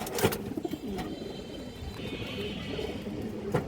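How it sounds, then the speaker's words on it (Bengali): A female pigeon coos softly in low, throaty repeated calls, close by, with a couple of sharper bursts of noise at the start and end. "খুবই সুন্দর একটা মাদি হারামি লাইনের কবুতর"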